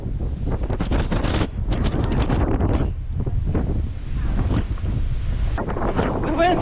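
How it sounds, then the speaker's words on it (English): Strong wind buffets the microphone outdoors at Masungi Georeserve, a loud steady roar with gusty surges that rise and fall throughout. "The wind's actually really strong right now"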